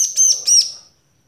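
Two quick bursts of high, sharp chirping from a wild bar-winged prinia, close and clear, each lasting about a quarter second with a brief gap between, then silence.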